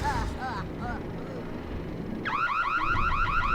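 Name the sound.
alarm sounding in the video game Super Mario Galaxy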